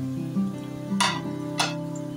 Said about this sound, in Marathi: आपलं तेल तापलेलं आहे. आता आपण त्यात घालूया जिरं, तमालपत्र,